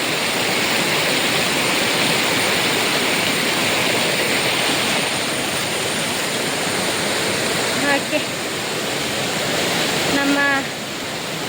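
A river flows through dense forest as a steady, loud broadband rush of water that fills the whole clip, with a couple of faint brief tonal sounds near the end.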